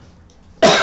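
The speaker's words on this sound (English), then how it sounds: "Excuse me, I said that and I coughed" A single sharp cough bursts loud and close after a near-silent pause.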